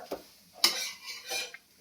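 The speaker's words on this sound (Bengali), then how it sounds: "এই যে ভাজতে ভাজতে দেখেছেন কিরকম দেখুন দেখুন পাটগুলো ফটফট ফটফট সব পাটগুলো চলছে" Lachha paratha fries in a pan as its layers separate, with quiet sizzling broken by several distinct clinks and scrapes of a utensil against the pan, fairly close, with no talking.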